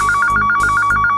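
A telephone bell rings in a rapid repeating trill, two bursts separated by a short pause, loud and close with no talk, set in a comedy scene.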